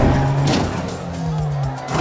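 Racing lawn mowers buzz around a course in Britain, engines whining and rising in pitch as they accelerate and pass, a continuous loud roar with a tire-squeal-like edge.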